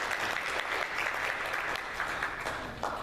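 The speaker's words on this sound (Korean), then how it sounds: "박수" A church congregation applauding at a Christmas service, a dense, steady burst of many hands clapping throughout, heard from within the crowd.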